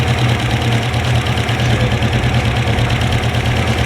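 An LS V8 swapped into a BMW E46 idles loud and close with big cams, a lumpy, uneven rumble pulsing in a steady choppy rhythm throughout.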